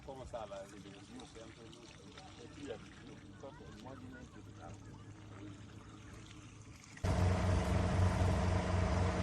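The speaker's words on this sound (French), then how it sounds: "L'eau sale qui sort avant que l'eau propre ne suive. Après plusieurs heures. Donc là, c'est la boue qui sort." Muddy, dirty water gushing from a newly drilled drinking-water borehole in a village, starting as a low outdoor rumble with voices nearby, then surging suddenly into a loud, steady rushing flow.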